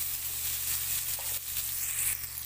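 Red onions sizzle steadily in a hot pan, a close, continuous crackling fry that goes on without pause and with no voices.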